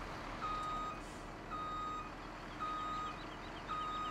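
A truck in Farming Simulator 17 backing out of the way, its evenly spaced reversing beeps repeating over a low idling engine rumble, moderately quiet, with no speech.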